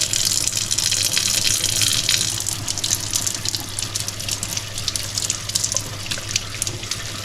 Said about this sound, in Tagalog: lalagyan lang ng tubig dito sa gilid